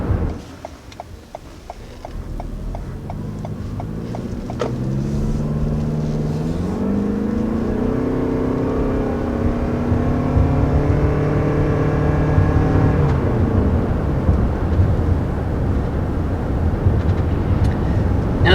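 A 2020 Toyota RAV4 Hybrid drives along with its engine running, a steady road and motor hum whose pitch climbs smoothly as it accelerates, then settles into a constant drone.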